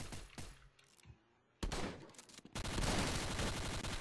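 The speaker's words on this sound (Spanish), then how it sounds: "Estaba cagando a tiros y me dispararon atrás." Gunfire in a shooting video game comes as sharp bursts and a dense, loud automatic fusillade near the end, with a brief quiet gap between volleys.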